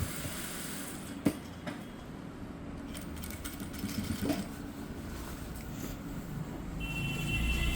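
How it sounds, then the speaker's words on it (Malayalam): A sewing machine stitches a shirt, producing a low, continuous mechanical whirr at moderate loudness, broken by a couple of faint clicks and rising slightly toward the end. "സെൻറ്ററിൽ നിന്ന് സ്റ്റിച്ച് ചെയ്ത് തുടങ്ങണം."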